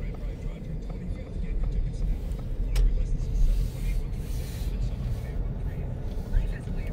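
A Ford Mustang Mach-E electric car is driving, heard from inside as a steady low road rumble and tyre noise, with people talking over it.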